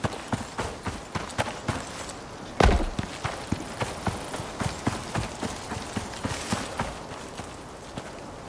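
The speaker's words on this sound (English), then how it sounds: "I heard a horse." Horse hooves clip-clopping at an even walking rhythm in the survival game Icarus, close and clear with one sharper thud partway through, no talk.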